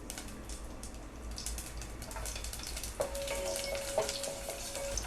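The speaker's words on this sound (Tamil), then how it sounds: "ஃபஸ்ட்டு பூண்டு போட்டுக்கலாம்." Garlic frying in hot oil in a pan for a Tamil manathakkali keerai poriyal, a steady, moderately loud sizzle with a brief high tone partway through.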